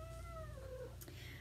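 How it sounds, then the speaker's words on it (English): A cat in a room lets out a drawn-out, falling meow, then a brief sharp sound, faint over a low steady hum. "The cats are in the room with me right now, so they may make a little bit of noise."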